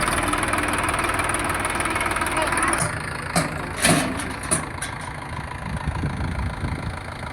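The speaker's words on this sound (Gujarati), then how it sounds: "સાથે ટ્રેક્ટર આવી ગયું છે" A Mahindra tractor engine rumbles steadily at idle throughout, close by, with a groundnut-harvesting machine attached, a few sharp clanks and knocks breaking in near the middle.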